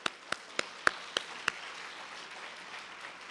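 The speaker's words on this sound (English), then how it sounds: "I want everybody to applaud the teachers because we wouldn't be here without them" At an award ceremony for a neighborhood poster contest, a few distinct, sharp claps ring out at a steady rhythm, about six in total, over quiet crowd murmur. Softer, scattered clapping follows and trails off.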